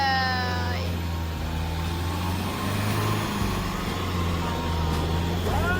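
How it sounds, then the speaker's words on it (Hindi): A vehicle grinds its way out of mud after morning rain, its engine droning steadily and loudly up close, rising and falling with effort against a constant low rumble of other idling vehicles. "फाइनली दोस्तों ये किडनैपिंग वाली गाड़ी बाहर निकल आई कीचड़ में से"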